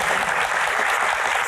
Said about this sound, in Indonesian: tepuk tangan buat Ferry